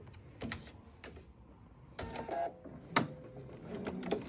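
A sewing machine back stitches at the start and end of a seam. Short bursts of rapid mechanical stitching are separated by brief pauses, close up and moderately loud, with no speech.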